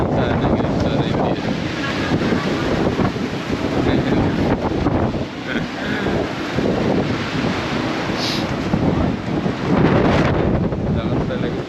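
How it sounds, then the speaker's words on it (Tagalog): Strong gusts batter the microphone at a hilltop park in Tagaytay City, a loud rumbling buffet that surges and dips unevenly throughout, with a voice faintly present beneath. "Tindi siguro ang wind noise ito eh."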